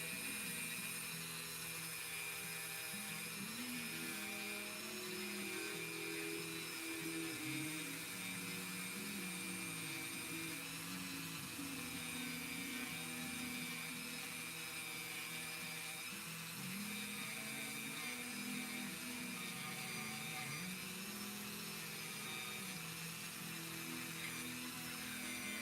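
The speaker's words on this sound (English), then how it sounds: "we'll take our Dremel bit, which I'm using this guy here, and we'll use this to sand, kind of smooth out the back of the foot here" A Dremel rotary tool sands the back of a 3D-printed figure's foot, a steady, high, buzzing whine that runs throughout, its pitch dipping and wavering as the bit presses into the plastic.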